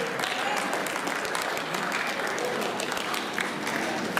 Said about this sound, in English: Round of applause for Mary.